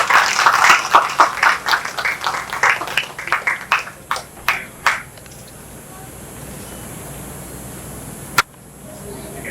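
Applause at a Rotary club inauguration at Lodha Amara, Thane: a burst of clapping that quickly thins into a handful of separate, spaced claps and dies away, followed by quiet room tone and one sharp click near the end.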